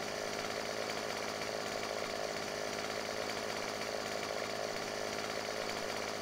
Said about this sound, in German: Dazu haben wir hier unsere Kettensäge.